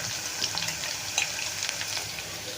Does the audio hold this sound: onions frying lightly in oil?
yes